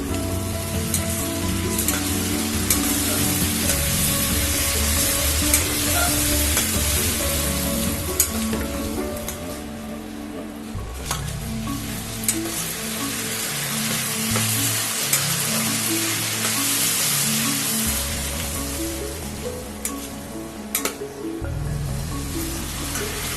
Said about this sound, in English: Make sure that your masalas don't burn and keep stirring.